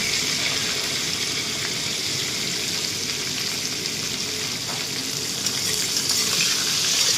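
Capsicum, beans and onion frying in a pan for a mutton dish, a steady close sizzle that holds without a break, with watery crackle and faint stirring throughout and no voices.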